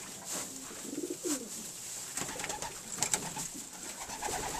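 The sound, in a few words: pigeons cooing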